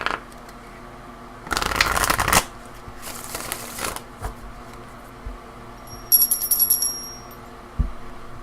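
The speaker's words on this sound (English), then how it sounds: "I will be drawing 3 of these cards to see what is going on." Oracle cards being shuffled by hand in two crisp riffling bursts, close and clear in a quiet room, followed by softer taps and a short bright chime.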